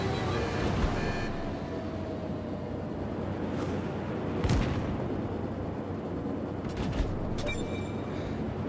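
Naval guns fire volleys in a warship video game, heard as repeated booming blasts and rumbling impacts over constant battle noise, with a few sharper cracks standing out.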